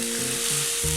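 Rice roasts in a pot for chicken biryani, giving a loud, steady sizzle and crackle that lasts about a second, with no talk.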